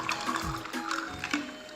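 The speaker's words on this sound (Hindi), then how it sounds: "अब मैं इसमें डालूंगी ठंडा पानी" Cold water poured into watermelon juice in a kitchen, a steady liquid gush and trickle with splashy bursts, close and fairly quiet, running continuously without talk.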